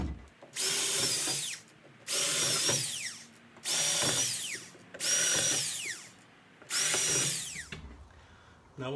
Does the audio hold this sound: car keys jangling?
no